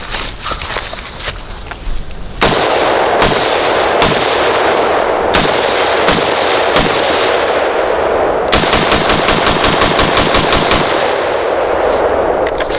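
H&K MR762 and Sig Spear M7 battle rifles fire outdoors, first single loud, sharp shots at a steady pace, then a rapid string of close shots, with faint gunfire ringing behind them.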